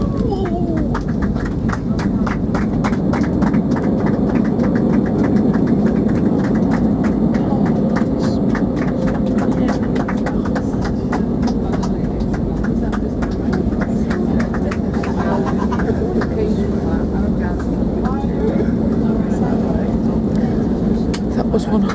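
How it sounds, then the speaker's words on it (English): Loud, steady roar of an airliner's engines and cabin rumble during a landing at Innsbruck airport in Austria, a very short runway set among mountains, with harsh braking; muffled talk sits beneath the continuous noise. "And now we're going to land in a field"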